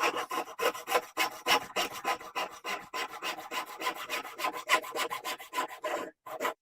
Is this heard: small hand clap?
no